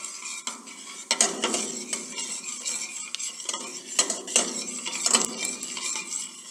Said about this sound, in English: After heating the oil, we'll add a bit of white cumin seeds.